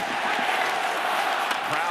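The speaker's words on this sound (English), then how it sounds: "Crowd getting into it now" An ice hockey arena crowd at an Anaheim Ducks vs Nashville Predators game roars and cheers in a dense, steady wash of noise, with a commentator's voice running underneath.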